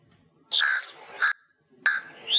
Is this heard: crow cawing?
yes